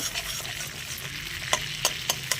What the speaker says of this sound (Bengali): বাটারটা মেল্ট হয়ে গেলে